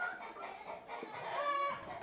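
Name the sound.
laying hens clucking on a chicken farm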